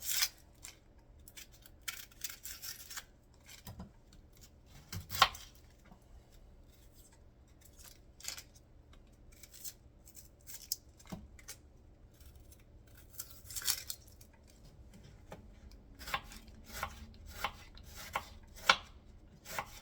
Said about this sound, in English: I'm just gonna make thin slices out of the onion